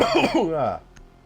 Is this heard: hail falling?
no